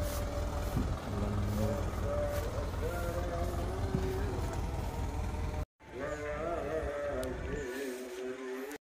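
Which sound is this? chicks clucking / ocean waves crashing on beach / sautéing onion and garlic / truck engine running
truck engine running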